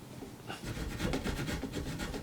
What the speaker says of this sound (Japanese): 手のこで入れます。